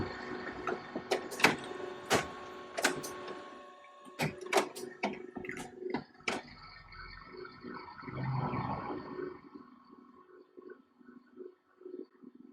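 An HP LaserJet printer with a toner leak initializes for a print attempt, giving a run of sharp mechanical clicks and clacks that give way to a softer whirring and rumbling motor sound, close by with no talk.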